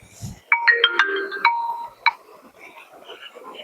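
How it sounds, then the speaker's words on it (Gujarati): A mobile phone rings in a Gujarati comedy sketch, with a short electronic ringtone melody of quick bright beeps that is close and clear, followed by a final chirp and then quieter background sound. "ફોન આવ્યો વળી"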